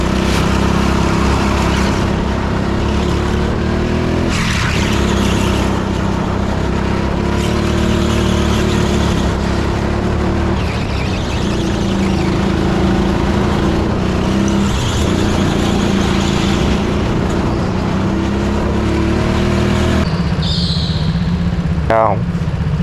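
Kart engine at a Teamsport karting track in Edmonton, heard during a fast lap in the BIKC local finals, a continuous loud drone that rises and falls through corners for the whole stretch, with some voice mixed in.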